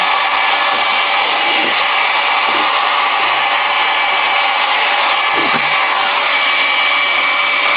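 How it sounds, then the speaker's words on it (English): A heat gun on high blows hot air onto the back of a circuit board for reflow, giving a steady, loud broadband whoosh that holds unbroken from start to finish with no speech. "So we're going to heat gun the back first, and then I'll do the front."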